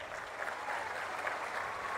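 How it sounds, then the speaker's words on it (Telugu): An audience at a government officials' meeting claps steadily in a dense, sustained burst of applause that sounds fairly distant and faint, with no voices over it. "గట్టిగా చప్పట్లు కూడా చెప్పండి."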